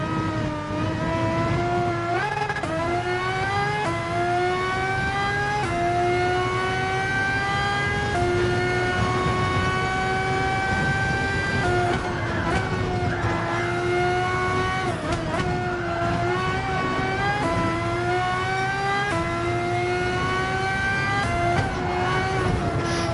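Racing car engine in Gran Turismo Sport revving hard and shifting up through gears, a loud continuous whining roar that repeatedly climbs in pitch and drops at each change, with no talk.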